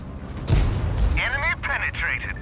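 Two heavy gunshot blasts ring out in the Steelhunt video game, closely spaced, followed by voices talking over fading echoes.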